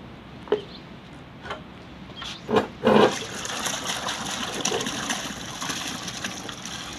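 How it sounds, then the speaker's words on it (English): Water poured into a large batch of homemade liquid soap mixture, a few short splashes giving way to a continuous rushing gush that fills the rest of the stretch. "Add water."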